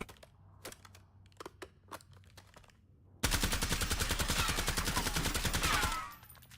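Rapid automatic gunfire from a weapon with heavy recoil in Call of Duty: Black Ops 7, a loud, dense burst lasting about three seconds after a few quieter scattered clicks and taps.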